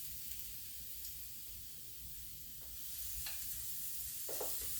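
Salted chicken sizzles steadily on a hot George Foreman grill, a soft continuous frying hiss with a few faint clicks and scrapes near the end.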